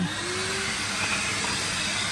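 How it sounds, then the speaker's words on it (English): A loud, steady wet vacuum cleaner whooshes with a hissing airflow throughout, close by and continuous, cleaning a car seat in a Vauxhall Astra. "We're gonna start wet vacuum."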